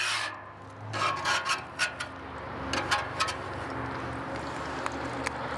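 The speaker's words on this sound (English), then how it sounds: "So we're gonna scrape all that beautiful grease up," Metal scraper rasping across a Blackstone griddle, pushing grease toward the rear funnel; a series of short scraping strokes up close, fairly loud, with no one talking.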